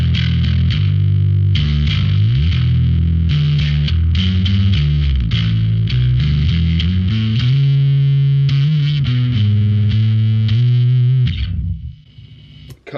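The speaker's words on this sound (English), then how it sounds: "Let's boost some low end with the grunt switch here and see how this sounds." An electric bass played through a Darkglass B7K Ultra preamp with the grunt switch boosting the low end gives a thick, gritty, overdriven line of sustained notes and runs, loud and close, with no talking, tailing off into a brief decay at the end.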